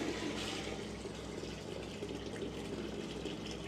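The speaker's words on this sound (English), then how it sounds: "We're gonna get rid of a lot of the water from this pan." Water poured off a gold panning pan holding sand and fine gold, a steady broadband rush and splash that runs the whole time, fairly close and alone with no talk.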